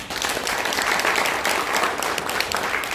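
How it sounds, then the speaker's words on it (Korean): Crowd at a political launch rally applauding to welcome attendees, a loud, dense, continuous roar of clapping from many hands, sustained for the whole stretch. "여러분 박수로 환영해 주시면 고맙겠습니다."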